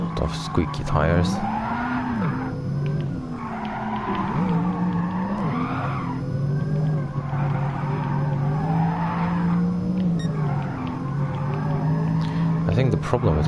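Racing car tires squealing and skidding through a corner in Gran Turismo Sport, a continuous loud screech with engine tone underneath, running for the whole stretch alongside a voice talking.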